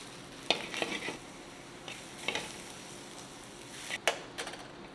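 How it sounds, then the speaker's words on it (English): A mushroom, garlic and parsley mix fries in a little olive oil, with a steady low sizzle under a few sharp stirring scrapes spaced through the clip. "what I'm going to be throwing in there is actually a mushroom, it's a garlic and parsley mix with a little bit of olive oil"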